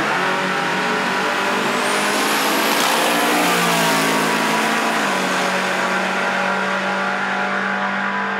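Drag race cars at a nighttime drag event, a 1980 Malibu against a 1969 Camaro, launch and accelerate hard down the strip, with a loud, continuous engine roar that climbs through the gears and holds steady toward the end.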